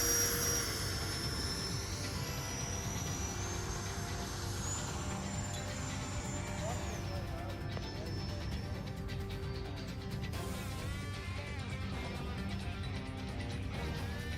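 An FMS 80mm Rafale RC jet with a single EDF unit and twin afterburner flies past, its high whining fan tone steady and then shifting in pitch. It sounds continuous and moderately loud, and a voice talks over it.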